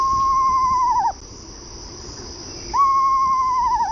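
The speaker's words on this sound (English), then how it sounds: "So that's the screech owl." Eastern-type screech owl giving a whinnying call that trills downward, two drawn-out quavering phrases separated by a pause, heard over a steady background of insect chirring at night.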